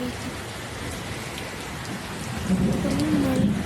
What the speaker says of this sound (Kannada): ನಮ್ಮ ಏರಿಯಾದಲ್ಲೂ ಮಳೆ ಬಂತು